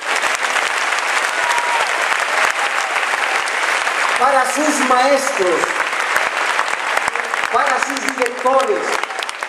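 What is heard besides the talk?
audience applause at a school graduation ceremony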